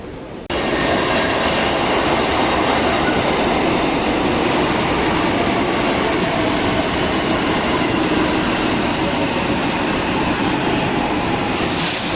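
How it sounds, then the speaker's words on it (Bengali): A moving Haldibari Intercity Express passenger train gives a loud, continuous rolling roar with a dense wheel-and-rail rumble. The sound holds steady throughout, close and heard without talk. "হলদিবাড়ি ইন্টারসিটি এক্সপ্রেস দেখাবো অবশ্যই। তো সেটা ধরেই যাচ্ছি আজকে নর্থ বেঙ্গলের উদ্দেশ্যে"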